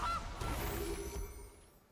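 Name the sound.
goose honk from Gilded Goose card, MTG Arena video game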